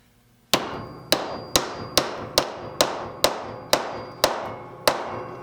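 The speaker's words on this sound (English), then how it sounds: "It's a 3-pound hammer." A heavy 3-pound hammer pounds wood in a workshop, ten sharp, evenly spaced blows about half a second apart. Each loud, close impact rings briefly and then decays before the next strike.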